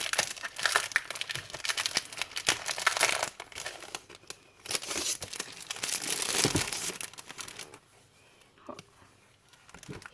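A crinkly plastic package being torn open by hand, with bursts of loud, close rustling and crackling that pause briefly and then quieten toward the end.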